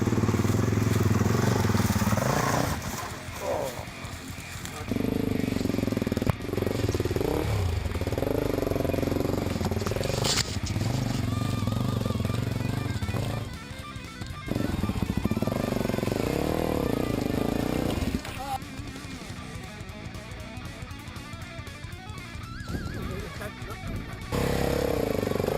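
Off-road enduro motorcycle engines rev and labor loudly for the whole stretch outdoors, with rising and falling throttle surges and idling between pushes, while people talk over the noise.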